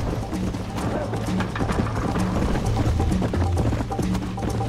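Horse hooves trotting in the video game Red Dead Redemption, a steady rhythmic clip-clop of hoofbeats at close range, continuous under someone speaking.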